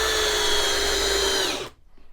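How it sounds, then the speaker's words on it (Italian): A Parkside countersink drill bit bores quickly into soft fir wood, a steady high-pitched whine with grinding texture that runs loud and close for about a second and a half before cutting off to near silence. "Vi faccio vedere praticando un foro molto velocemente, sempre sul legno tenero, stiamo parlando di abete"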